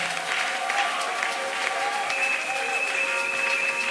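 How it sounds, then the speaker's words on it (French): A church congregation at a prayer gathering breaks into steady, dense applause with cheering and a few whistles, filling the room evenly for several seconds. "Nous acclamons fortement et ovationnons."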